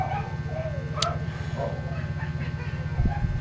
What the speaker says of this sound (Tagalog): Ay ngayon ng background ko, may tumatahol na aso.